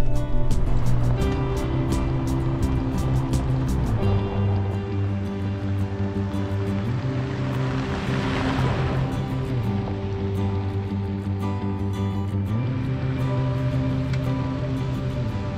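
Vehicle driving over a washboard gravel road near Shady Cove, Oregon, heard as a continuous rumble and rattle from inside, with a steady low drone and constant vibration throughout and no talking.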